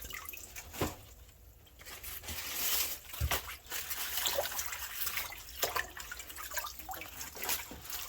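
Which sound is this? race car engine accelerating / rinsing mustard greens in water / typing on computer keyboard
rinsing mustard greens in water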